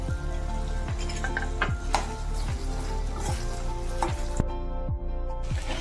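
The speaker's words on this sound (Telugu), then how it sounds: "ఇప్పుడు ఆయిల్లో ఈ ముక్కల్ని వేసుకొని కొద్దిగా వేయించాలి" Mango pieces fry in hot oil in a pan for a sweet jaggery pickle, a steady sizzle under a low hum, punctuated by regular scraping stirs of a utensil roughly every half second.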